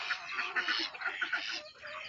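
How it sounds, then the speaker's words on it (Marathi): A duck on a country poultry farm quacks in a quick, fairly close run of short calls, with other fowl faintly around it. "बदक"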